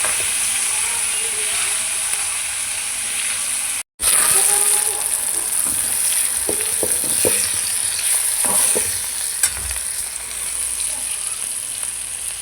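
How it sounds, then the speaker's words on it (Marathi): Crumbled leftover chapati with turmeric frying in a pan, a continuous loud sizzle with repeated scraping and clinking stirs after a brief cut, close up, with faint voices underneath. "आपण याला आता फ्राय करून घेऊया मस्त असं हलवून घेते"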